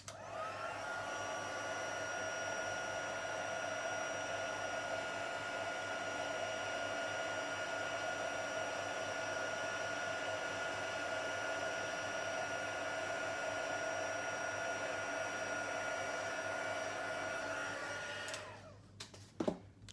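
Heat tool warming copper embossing powder in a card-making session, a steady loud hair-dryer-like blowing hum running continuously for about eighteen seconds before cutting off, followed by brief clicks.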